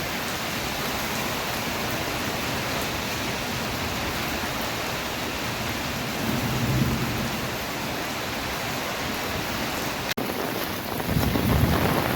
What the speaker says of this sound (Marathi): गडगडाचा आवाज पण भरपूर आहे